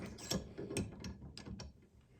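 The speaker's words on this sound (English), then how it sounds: "you're just gonna slowly crank this down until it fills in" A double flare tool is cranked down on a broken brake line, giving a series of close, quiet metallic ratcheting clicks in an uneven rhythm with no talk.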